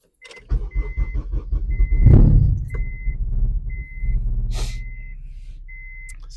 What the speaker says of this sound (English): First I gotta turn the car on so